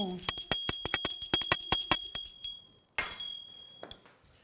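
A rapid series of bright metallic bell dings, a dozen quick strikes, then a final shimmering ring and a softer chime fading out.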